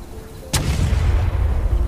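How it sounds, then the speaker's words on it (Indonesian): A single loud gunshot from a ship coming in to anchor off an island: one sharp crack, then a long low rumbling echo that keeps rolling to the end. "tiba-tiba mereka mendengar suara tembakan"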